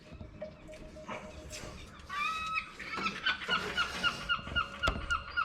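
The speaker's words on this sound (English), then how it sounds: "Oh, seagulls are noisy today." Seagulls call outdoors near a car radiator repair, their repeated harsh squawks starting faint and then coming in a steady, fairly loud series of cries over a background of outdoor noise.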